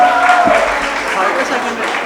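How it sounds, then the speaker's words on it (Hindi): Audience applause at the closing ceremony of a Sanskrit youth festival, welcoming a third-place prize winner; steady, dense clapping fills the room throughout, with a voice briefly heard over it near the start. "तालियां बजाइए।"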